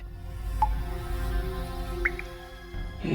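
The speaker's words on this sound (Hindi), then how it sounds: "ये पानी टपकने की आवाज है।" A few faint drips of water fall at irregular intervals in a quiet room with a low background hum.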